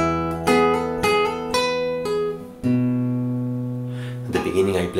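Fingerstyle acoustic guitar plays the ending of a piece from Howl's Moving Castle. Several plucked chords and notes ring out close and loud and decay slowly, followed by a brief rustle at the end.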